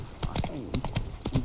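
Roach the horse's hooves clip-clop in a quick galloping rhythm in Witcher 3, about a dozen close, sharp strikes with a brief whinny-like cry in the middle.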